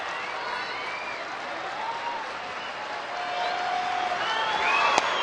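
A baseball stadium crowd stays on its feet after the Rockies beat Arizona in Colorado, loud sustained applause and cheering that swells toward the end, with whistles over the roar.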